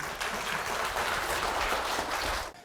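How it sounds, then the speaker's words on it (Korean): Warm applause from a seated audience welcoming an obstetrics professor to a health lecture, a loud, dense wash of clapping that holds steady for a couple of seconds before breaking off abruptly. "다들 따뜻한 박수로 맞이해 주시길 바라겠습니다"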